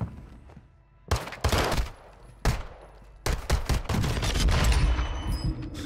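Gunfire in Warzone 2 breaks out in sharp, loud bursts after a quiet opening, with a few separate volleys and then a sustained, dense stretch of rapid shots near the end.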